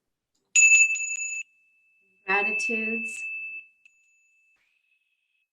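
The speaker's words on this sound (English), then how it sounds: "I just want to close with my bell." A small hand bell or singing chime rings to close a spiritual gathering, one clear sustained tone that rings out, then a brief second strike is heard under a speaking voice as the ring fades.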